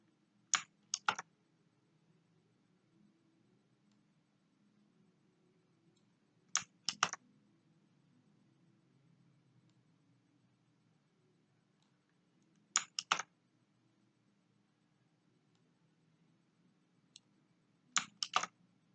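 Short clusters of computer keyboard keystrokes, about four quick bursts of two or three clicks each, spaced several seconds apart over a quiet room hum, with no talking.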